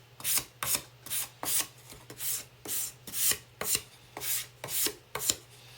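Sandpaper of a smooth grade rubbing over a farm-fresh pumpkin to knock down high spots, heard as about a dozen evenly spaced rasping strokes, close and fairly loud, with a steady low hum underneath.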